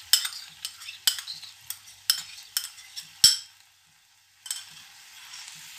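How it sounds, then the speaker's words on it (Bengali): A spoon scrapes and knocks through vegetable curry with mixed-in mustard paste in a pan, in repeated short strokes roughly once a second, with a soft sizzle between them and a brief pause near the end. "তরকারিগুলো পুরো একসাথে ভালো করে মিশিয়ে এবার সর্ষে আমি গুলে রেখেছিলাম এটা মিক্স করে দিলাম"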